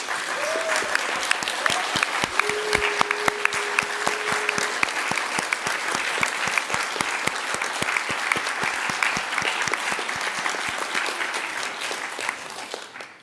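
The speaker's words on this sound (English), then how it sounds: "Please can I ask for a brief round of applause." Sustained round of applause for Tim from councillors at a Bournemouth, Poole and Christchurch full council meeting, steady dense clapping from a roomful of people for over twelve seconds before tapering off.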